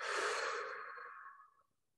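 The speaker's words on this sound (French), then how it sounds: "On relâche le ventre et on expire." A slow, relaxed exhale during breathing meditation, a soft breathy rush close to the microphone that fades gradually over about two seconds, with no talking.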